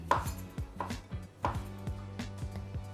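A knife finely dicing pickle on a board, giving a close, brisk series of about eight sharp chops in a steady rhythm over a faint low hum.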